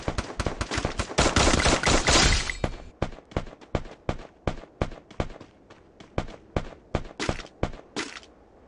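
Gunfire from the Free Fire video game: a dense burst of rapid automatic shots for about two seconds, then a steady run of single sharp shots spaced evenly, loud and close, with no voices.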